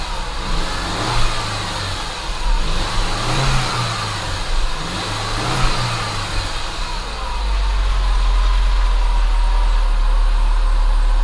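A Saab 9-5 Turbo engine fitted with a replacement MAF sensor revs in several short blips of throttle, then settles into a steady, louder drone.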